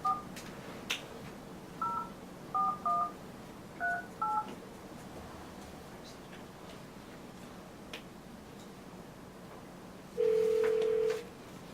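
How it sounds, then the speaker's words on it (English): A telephone number dialed on a keypad, a series of short paired DTMF tones in quick irregular groups, followed after a pause by a longer steady tone, in a quiet room. "Ron, can we put you on hold for a minute and call you from another phone?"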